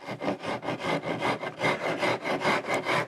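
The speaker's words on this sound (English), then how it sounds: "Now this is a pretty coarse file, so it'll work fast" A coarse file shapes the contours of a wooden Stratocaster-style guitar body in quick, rhythmic rasping strokes, about a dozen close, steady rubs with no talking.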